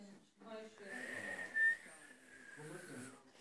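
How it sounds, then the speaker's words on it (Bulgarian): A person whistles a short, faint, wavering tone that holds steady for about a second, with soft talking around it. "Свирене."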